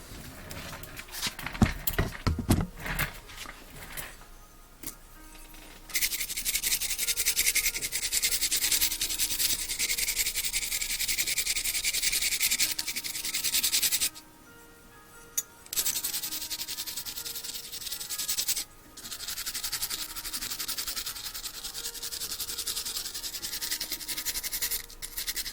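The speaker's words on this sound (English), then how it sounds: "So let's wire brush these guys" Wire brushing small 1/64 scale custom die-cast car parts: long bursts of bright, hissy scratching strokes with brief pauses between them, close and fairly loud, no talking.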